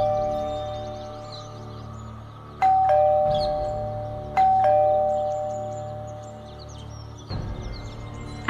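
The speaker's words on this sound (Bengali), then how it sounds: "এতবার করে কলিং বেল বাজালো" A doorbell rings twice with a ding-dong chime, then a third chime follows, loud and close over a low music bed, in a spooky radio drama set near a graveyard.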